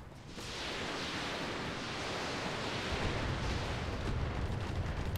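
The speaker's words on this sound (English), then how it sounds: "We're gonna fire everything." Mech weapons all firing at once in the video game RogueTech, a BattleTech mod, a dense rolling roar of artillery-like blasts that builds quickly and holds as a continuous heavy barrage, loud and without talking.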